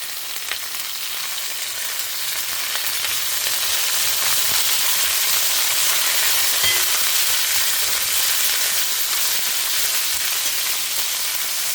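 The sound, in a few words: parwal vegetable sautéing in a pan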